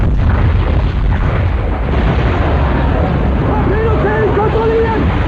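A short-lived explosion effect from the submarine war drama Das Boot, a loud dense rumbling burst filling the whole clip, with a tonal wavering whine rising near the end.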